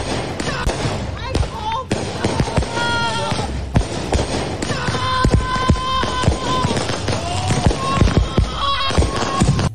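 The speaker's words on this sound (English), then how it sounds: "This woman is upset because neighbors are letting off fireworks." Fireworks going off in a street at night: a rapid, irregular run of sharp pops and bangs, some echoing, mixed with voices and whistling streaks, fairly loud throughout.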